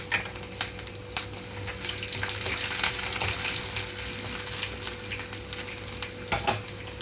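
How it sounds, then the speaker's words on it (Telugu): Green chilies added to hot oil with curry leaves and crushed garlic sizzle and crackle steadily, with a few louder pops and stirring scrapes, close and fairly quiet. "ఇప్పుడు పచ్చిమిరపకాయలు కూడా వేసేస్తున్నాను"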